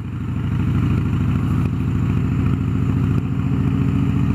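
A Harley-Davidson Softail Fat Boy runs at a steady idle, its loud, close engine giving a deep, even, lumpy pulse with a metallic clatter throughout and no talking.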